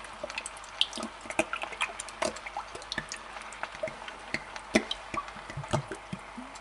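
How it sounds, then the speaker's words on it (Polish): Warm water is poured into a bottle, producing a rapid, irregular patter of drips and small splashes that continues for several seconds, faint and close, with no voices. "Wody ciepłej do butelki, żeby obmerdać."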